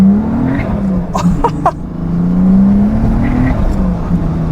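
Twin-turbocharged VR6 engine in an all-wheel-drive Volkswagen New Beetle GT6 with a six-speed manual, roaring loud and near as it pulls through the gears, its pitch rising then dipping at shifts, with a brief burst of crackle partway through.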